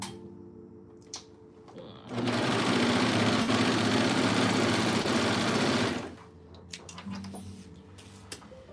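Sewing machine running a combo overlock stitch on a shirt, one steady loud whirring burst of about four seconds, with quiet handling clicks and fabric movement before and after.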